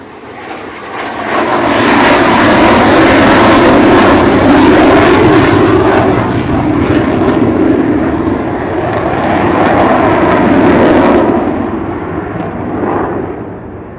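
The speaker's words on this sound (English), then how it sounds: "So here is Kevin and Pod bringing her in off the low overshoot, bringing the gear up" An Avro Vulcan bomber makes a low overshoot and raises its gear, its engines producing a loud, sustained roar that swells and holds for most of the stretch before easing slightly toward the end.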